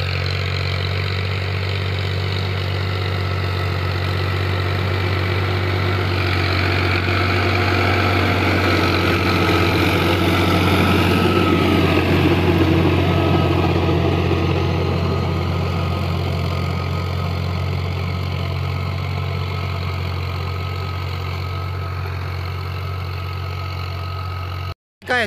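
A tractor running with a rotor in a sugarcane field in third low gear, its engine a steady, heavy, slightly knocking drone that stays loud and close for the whole stretch, swelling mid-way and easing off at the end.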